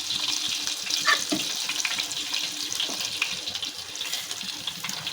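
Garlic, dried red chillies, cumin and tempering spices sizzle steadily in hot oil for a tomato dal, a close, continuous crackle with occasional stirring and no talk.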